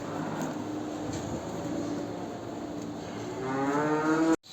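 Cows mooing in a barn during morning chores: long, low drawn-out moos from nearby cattle, with a louder close moo building near the end before a sudden cutoff.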